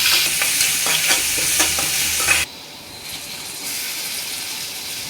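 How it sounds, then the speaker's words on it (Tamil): Chopped onions with salt sauté in a hot pan for a mutton curry, giving a loud steady sizzle with stirring scrapes that cuts off halfway, then a quieter hiss continues; no one speaks. "நம்ம சாப் பண்ணி வச்சுருக்க வெங்காயம் சேர்த்துக்கலாம். அது கூட கொஞ்சம் உப்பு சேர்த்து நல்லா வதக்கி எடுத்துக்கோங்க."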